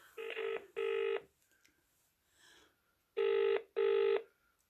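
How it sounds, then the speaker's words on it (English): Telephone bell ringing in two double bursts, a pair at the start and another pair about two seconds later, loud and close with quiet gaps between and no talk over the rings. "Is it your phone ringing?"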